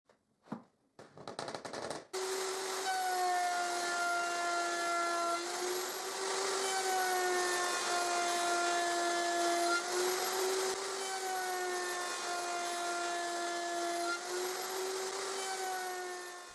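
Router cutting a wood tenon with a jig and fence, a loud sustained high-pitched whine starting after a couple of brief clattering sounds and holding steady for the rest of the clip.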